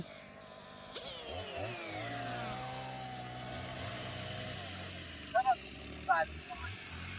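A chainsaw notches a wooden board for a rustic mountain table, its engine droning steadily, with pitch sweeps as it revs and a couple of short sharp bursts near the end, under some talk.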